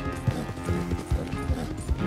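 A horse's hooves clip-clop in Red Dead Redemption 2, an even trotting rhythm of about six hoofbeats over a low background bed.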